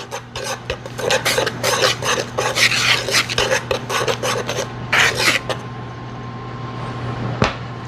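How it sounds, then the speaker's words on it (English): Strawberry gelatin mixed into a cake batter by hand: rapid rhythmic scraping strokes against a bowl over a low steady hum, close by, trailing off into quieter rubbing and a single knock. "I'm going to mix that strawberry gelatin in."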